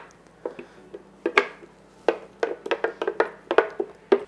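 Cashew cream is stirred into broccoli pasta in a pan, giving a string of close, irregular wet clinks and scrapes of a utensil against the dish, with no talking.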